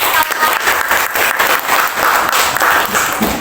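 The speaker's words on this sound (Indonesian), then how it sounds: "Tepuk tangan untuk kelompok" Loud applause from a classroom full of people, steady clapping sustained for a few seconds with no talking.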